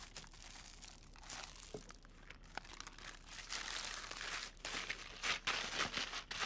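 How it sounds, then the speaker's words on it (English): Raw chicken pieces squelched by hand in a marinade with bay leaves, a close, wet crinkling and squishing that comes in uneven bursts and grows busier toward the end, with no voice. "Serious bit of squelching to do now."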